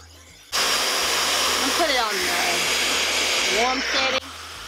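A Fentgo high speed ionic hair dryer drying hair gives a loud, steady rushing blast that starts abruptly, holds for nearly four seconds with slight wavering tones, then cuts off sharply.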